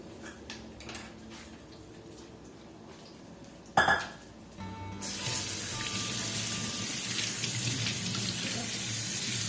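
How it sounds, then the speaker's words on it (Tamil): Fish are being washed at a kitchen sink. Quiet clinks and handling sounds come first, then a sharp clatter, and then the tap opens into a loud, steady rush of running water that lasts to the end. "இந்த மீன் டைம் நம்ம இங்க ஃபிஷ் வாஷ் பண்ணிக்கலாம்."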